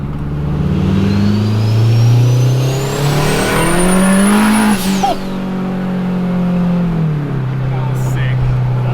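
A turbocharged K24 K-swapped Honda Civic EK launches hard off the line, its engine roaring loud and close as the revs climb, with a high whine rising in pitch before the throttle lifts and the note drops.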